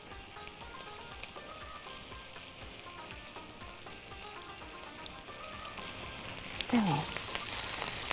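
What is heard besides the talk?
onions with flour and salt frying in hot ghee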